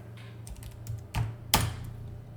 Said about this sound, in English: I have to type it in.